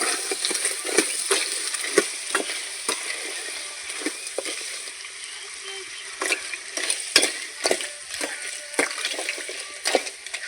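Crab stirred and sizzling in a pan for a spicy country crab fry, a steady frying hiss broken by frequent scraping stir strokes.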